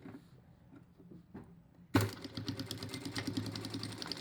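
A sewing machine stitching a fabric face mask starts suddenly and then runs as a steady, rapid mechanical whir and clatter, close and fairly loud, with no talking over it.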